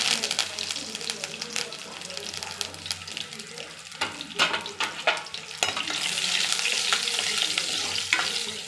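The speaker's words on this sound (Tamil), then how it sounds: "கடுகு பொரியட்டும். கருவேப்பிலை சேர்க்கிறது." Mustard seeds, urad dal and curry leaves frying in hot oil for a vegetable dish: dense crackling pops over a steady sizzle, near and moderately loud, with the hiss swelling sharply partway through.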